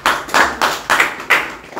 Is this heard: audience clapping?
yes